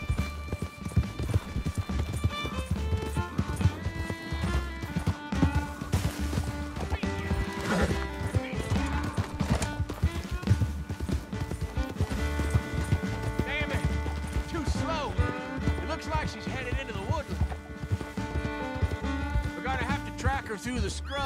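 Horse galloping in the video game Red Dead Redemption 2, steady rapid hoofbeats under a dense layer of game music and ambience, with a whinny and talking throughout.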